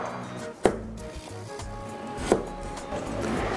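A knife dices a peeled carrot into small cubes on a cutting board, giving scattered soft taps with two sharper knocks of the blade against the board, close and clear.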